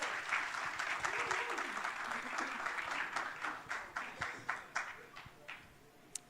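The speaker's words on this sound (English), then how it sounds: "If you could please join me on the stage and give them a round of applause" A conference audience at a radio industry event applauds as speakers come onto the stage, steady clapping that thins into scattered individual claps and a last lone clap, fairly quiet and distant.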